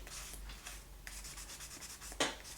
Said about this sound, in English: quickly sand this down so that I can see the colors